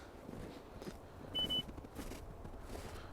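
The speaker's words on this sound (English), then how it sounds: "I got a beep." A single short electronic beep from an avalanche transceiver in search mode, clear and tonal, rises briefly above a quiet outdoor background with some faint crunching movement.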